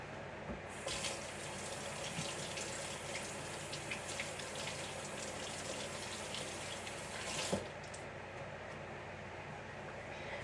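Water runs steadily from a kitchen tap over a cutting board being rinsed during vegetable prep, a constant close hiss and splash with a small clatter partway through.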